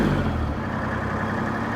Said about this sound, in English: So I'll rev it up, see what it does.